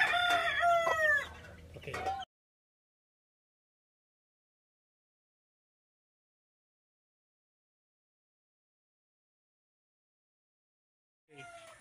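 Day-old Boston Gold over Golden Boy Sweater chicks cheep and peep loudly for about two seconds at the start, followed by a long silence and then a brief, faint return of chirping near the end.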